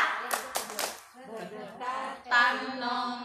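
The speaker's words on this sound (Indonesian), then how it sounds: "Tepuk jaga jarak." A group clapping a short rhythm for the 'tepuk jaga jarak' chant during a training session for 100 preschool teachers, three quick sharp claps followed by voices chanting.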